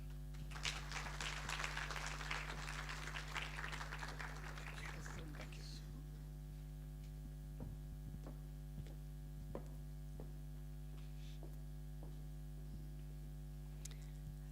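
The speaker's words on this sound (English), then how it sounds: "Another round of applause, please" Conference audience at an international management and law conference applauding a guest speaker: a scattered round of clapping for the first few seconds that thins and fades, leaving a few isolated claps over a steady electrical hum.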